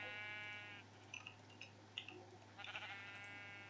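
A Minecraft sheep bleats a few times, short wavering calls standing out over a steady low game hum.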